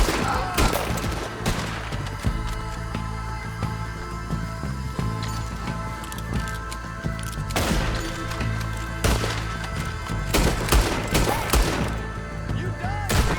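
Repeated volleys of close, loud rifle and pistol fire crack through a Red Dead Redemption 2 moonshine-shack shootout, in irregular bursts over a continuous rumbling background.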